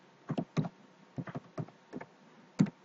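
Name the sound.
typing a search on a computer keyboard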